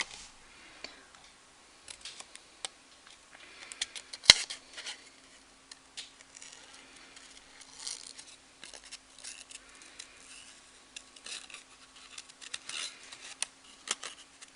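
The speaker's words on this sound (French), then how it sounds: "Et maintenant, avec les ciseaux, je vais venir les découper." Scissors cut out paper masks on a craft table, producing quiet, close snips and small paper rustles in an irregular rhythm, with one sharp tick partway through.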